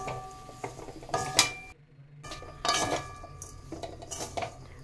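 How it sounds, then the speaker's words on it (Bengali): Grated coconut and nut powder being mixed in a bowl for coconut-almond barfi: spoon scrapes and clinks against the dish in short bursts, with a brief pause midway, close and fairly quiet. "নারকেলের সঙ্গে বাদামের গুঁড়ো ভালো করে মিশিয়ে নেব।"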